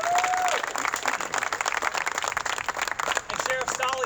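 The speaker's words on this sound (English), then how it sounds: "Let's give you guys a round of applause." A crowd at a primary election victory event claps steadily, the applause moderately loud throughout, with a voice briefly heard near the start and end.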